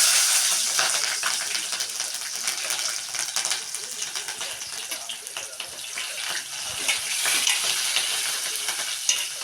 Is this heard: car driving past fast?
no